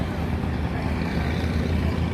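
Large sand-hauling boats pass along a river, their engines giving a steady, close, low rumbling drone without a break.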